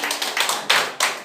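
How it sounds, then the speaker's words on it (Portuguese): Congregation in a church clapping for Jesus: a short burst of fast, close handclaps, with a louder cluster near the end. "Dê uma salva de palmas bem forte para Jesus"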